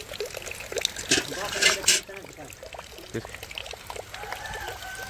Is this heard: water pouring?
yes